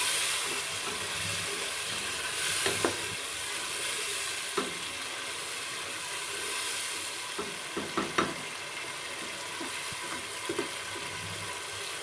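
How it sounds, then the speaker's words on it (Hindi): Green peas cooking in a pan for matar pulao, a close, even sizzling hiss with occasional light spoon taps and stirring scrapes. "मटर को अच्छे से पकाएंगे।"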